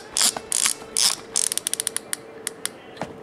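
Film being wound in a Konishiroku Pearl III folding camera: a few longer ratcheting whirrs, then a quick run of small clicks and a couple of separate clicks, close and clear with no voices.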